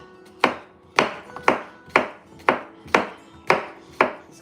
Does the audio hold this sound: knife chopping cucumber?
yes